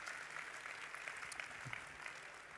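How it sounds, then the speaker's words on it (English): Audience applause at a sports conference session, faint and distant, a steady even patter of many hands continuing throughout without talk. "Let's give him a round of applause, ladies and gentlemen."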